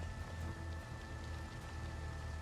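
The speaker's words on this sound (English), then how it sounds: "Curse the rain. I hate the rain." Steady rain falls in a driving video game demo, a dense even hiss with a low rumble underneath and a faint constant tone on top, with no voices.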